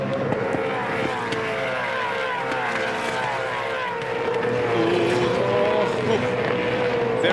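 Supercars race cars roar past at full throttle on the Darwin circuit, a loud continuous engine drone with shifting pitch from several cars, under steady race commentary.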